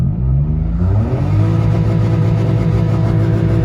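A Citroen C1 city car accelerating hard in second gear, its small engine revving loudly and climbing steadily in pitch from inside the cabin, continuous and close.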